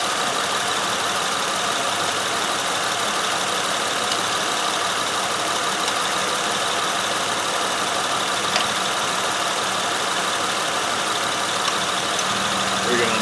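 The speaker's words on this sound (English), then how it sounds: "I don't know if you can hear the tone of the engine, but it switched to a single cylinder miss" An engine idles with a single-cylinder misfire after its number 1 injector is unplugged, giving a steady, close, loud running drone with a faintly uneven, stumbling tone throughout.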